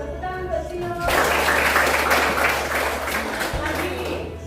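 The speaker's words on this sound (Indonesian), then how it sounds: "Tepuk tangan buat Cio." A group of children claps together in a short burst of applause lasting a few seconds, while a voice talks over it.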